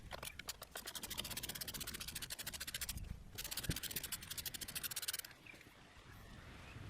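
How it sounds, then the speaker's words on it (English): A ratchet loosens the top shock absorber bolt on a pickup truck, giving rapid, steady clicking in two long runs with a brief pause between, close and loud. "You can first loosen it with a ratchet on top."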